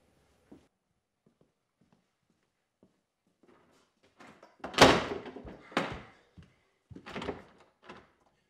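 Someone pounds on and tugs at a cabin door in the woods: a few faint, scattered knocks give way to a cluster of loud, close thuds and rattling slams in uneven bursts, with no talking.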